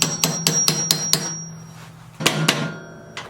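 A hammer taps a small socket into place while repairing a John Deere X300 lawn tractor: five quick, sharp metallic knocks in a row, a short pause, then two or three more loud close strikes.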